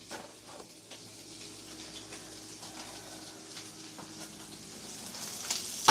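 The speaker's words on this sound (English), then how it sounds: "These biscuit gravy bombs, I will be cooking them in my cast iron skillet," Biscuit gravy bombs fry in a cast iron skillet, giving a steady, close sizzle that holds at a moderate level throughout and swells slightly louder near the end.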